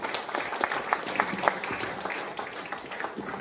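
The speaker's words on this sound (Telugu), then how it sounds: "కొంచెం గట్టి క్లాప్స్ ఇద్దాం ముగ్గురికి." An audience claps for three leaders at a business gathering, a steady, moderately loud round of applause lasting a few seconds with individual claps audible within the crowd.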